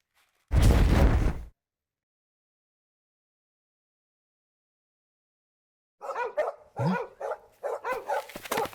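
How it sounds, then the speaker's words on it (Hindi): Dogs barking at night, with one loud close bark and then a quieter run of several quick barks and yelps after a long silence. "अपने डॉग्स बहुत भौंक रहे हैं, जल्दी चलो।"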